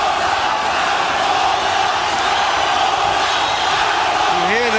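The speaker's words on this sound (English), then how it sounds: "You hear the crowd chanting for Zaragoza, Zaragoza." A boxing arena crowd at the 1997 Erik Morales vs Daniel Zaragoza fight roars and chants continuously, a loud dense wall of voices with a commentator's voice emerging at the very end.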